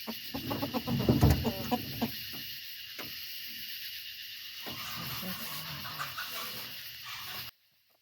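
Farm chickens being unloaded back home after transport cluck in a steady, moderately close jumble, with a brief louder burst of activity early on before settling into continuous low clucking.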